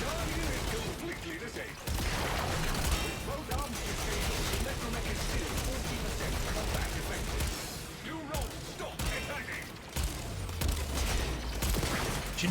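Rapid weapon fire in Warframe during a fight against a boss with an armored arm, dense crackling shots running almost continuously with brief gaps, while someone talks over it.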